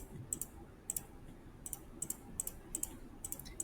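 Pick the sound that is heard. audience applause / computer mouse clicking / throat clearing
computer mouse clicking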